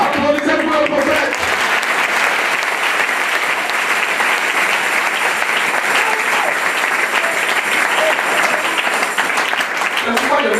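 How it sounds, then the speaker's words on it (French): A church congregation claps for the prophet during a French-language sermon, sustained, loud and dense applause running steadily throughout with little variation. "Applaudissez pour le prophète."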